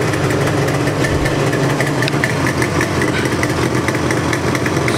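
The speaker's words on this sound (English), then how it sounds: "I'll let you hear the sweet rumble of a twin cylinder, a perfectly tuned." A twin-cylinder motorcycle engine idles on a cold start, running slightly fast with a steady, loud, close rumble and throbbing pulses throughout, no talking.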